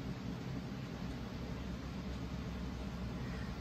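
An air conditioner running in a hot room gives a steady, even broadband hum and hiss with no change in level from start to end, and no one speaks.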